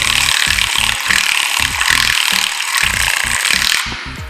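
A hobby paint mixer runs inside a paint bottle, giving a steady loud buzzing whir with a rapid rattling pulse that holds for about four seconds before cutting off.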